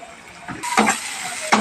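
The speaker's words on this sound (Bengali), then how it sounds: "মশলাটা ভাজা হয়ে গেছে সাইড দিয়ে তেল বেরিয়ে গেছে" Spice paste frying in oil with its edges separating, sizzling in short bursts with a few louder stirring scrapes in between, close and moderately loud.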